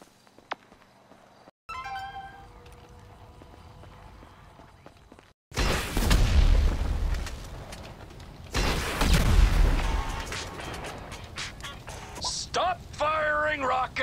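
Gunfire and rocket blasts in GTA 5, with quieter scattered sounds early, then two loud booming explosions with rumbling tails, followed by further crackling bursts and a voice shouting in between.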